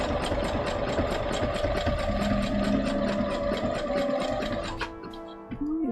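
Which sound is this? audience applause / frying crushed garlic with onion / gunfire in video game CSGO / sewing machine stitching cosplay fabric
sewing machine stitching cosplay fabric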